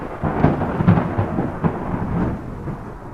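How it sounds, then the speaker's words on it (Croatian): Deep thunder rolls in from afar, a low rumbling swell with a few stronger booming pulses that fade into a lingering murmur. "A u daljini, kao da potvrđuje njegove riječi, začuo se zaglušujući grom."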